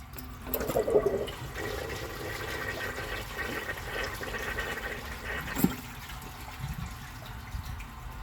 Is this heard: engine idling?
no